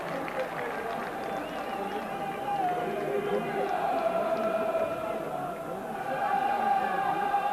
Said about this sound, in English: Crowd already shouting upon Newlove to get some of the ball